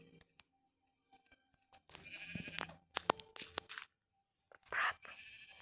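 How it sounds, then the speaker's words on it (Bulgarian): A sheep in the video game Minecraft bleats once near the end, a short close bleat that follows scattered game noises and soft whispered talk. "Овца."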